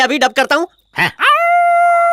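A man imitates a dog's howl, a drawn-out wavering tone rising and holding after a few short spoken words, loud and close.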